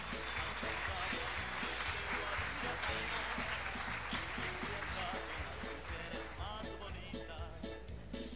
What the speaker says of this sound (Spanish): Recibámosle con un caluroso aplauso.